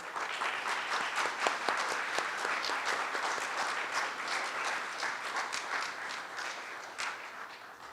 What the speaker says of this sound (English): And just one more round of applause for all of our veterans here today.